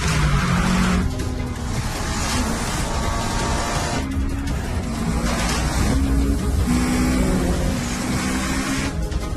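A Subaru and a Mitsubishi Evo 9 race each other on a city street, with engines droning loud and steady throughout, gear-change pitch steps, and a hint of tire noise.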